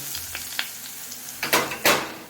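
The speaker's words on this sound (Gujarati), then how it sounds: "તેલ એમાં રઈ નાખ્યું છે અને" Mustard seeds tempering in hot oil for dhokla batter with bottle gourd, with crackling pops and sizzling bursts that grow louder toward the end, close and with no voices.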